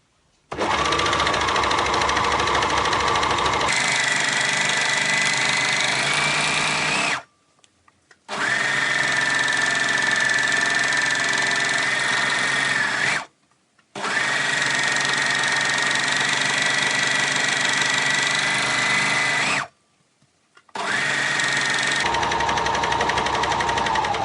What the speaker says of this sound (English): I've got the fabrics wrong sides together and I'm going to overlock round all 4 edges.